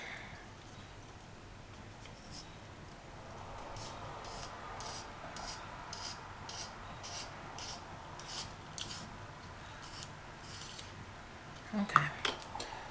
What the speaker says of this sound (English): Got to sharpen my pencil.